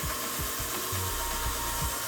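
Wood grooves on a turned candlestick are hand sanded with a 320 grit sponge, making a steady, continuous rubbing scratch with soft rhythmic strokes against a constant mechanical hum.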